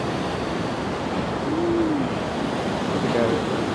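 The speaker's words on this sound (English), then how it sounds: "Look, there's another waterfall right there." Steady rushing water from an outdoor waterfall fills the scene as a continuous broadband roar at moderate distance, with a faint voice-like tone briefly over it.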